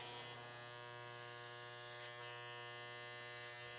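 An electric hair clipper, blade at its longest setting with the lever fully open, hums faintly and steadily in a close, continuous buzz with no talk.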